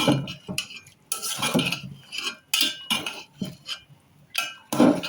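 A spoon scrapes and clinks against a metal cooking pot while bottle gourd pieces are stirred for a fish curry, giving a close, moderately loud run of uneven scraping bursts broken by brief pauses, with no talking.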